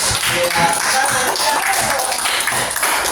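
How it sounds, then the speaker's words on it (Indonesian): A classroom group claps together, a dense, continuous patter of hands with a few bright taps, fairly loud and steady throughout with no talk over it. "tepuk tangan buat apa ini?"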